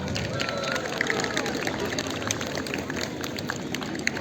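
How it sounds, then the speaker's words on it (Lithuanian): Applause from a school community at a September 1st opening ceremony in a gymnasium in Klaipėda, a steady dense clapping from a crowd that holds throughout, with crowd murmur mixed in. "Aplodismentai mums visiems!"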